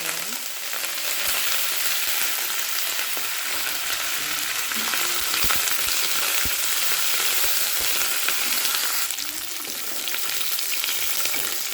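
Curry leaves crackle and sizzle in hot oil with dried red chillies, a dense, continuous frying hiss heard up close for several seconds.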